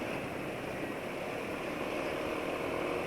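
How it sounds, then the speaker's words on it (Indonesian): A car engine running on Gulf Superfleet 15W40 oil gives a steady broadband drone and hum with no changes in pitch, quiet and continuous, with no voices. "Ini juga sudah mulai rame suara mesin."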